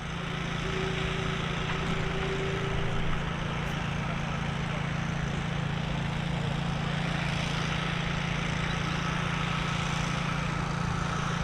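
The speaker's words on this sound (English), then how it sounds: "We've got the 777 on its way in as well from Dubai." Boeing 777 airliner inbound from Dubai on approach to Dublin Airport, a steady continuous jet engine drone with a low hum, heard from a distance and unchanging throughout.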